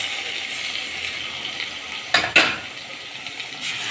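Beef and vegetables frying in a pan give a steady broadband sizzle, with a louder hissing burst about halfway through as liquid marinade hits the hot surface, then settling back to a constant crackle.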